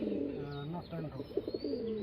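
Pigeons coo in low, rolling bursts at a wholesale pigeon farm, close and fairly clear, with a short run of quick pulsing coos near the end and a voice talking over part of it.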